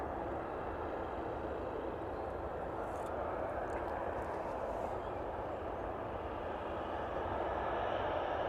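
Ryanair jet inbound from Faro on final approach at East Midlands Airport, a steady broadband engine roar that stays loud throughout and swells slightly toward the end, with no talk over it.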